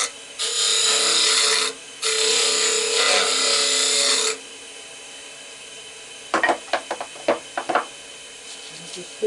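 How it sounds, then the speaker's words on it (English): Sandpaper rubs briskly against a carved banksia pod in two sustained, close, raspy strokes, then scattered sharp taps and knocks follow as the piece is handled. "Just hit that with a little bit of sandpaper."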